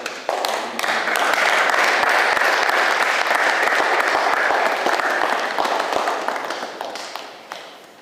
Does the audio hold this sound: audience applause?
yes